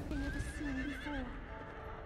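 A horse in the video game Breath of the Wild whinnies loudly with a wavering, descending neigh, accompanied by faint hoof clip-clops.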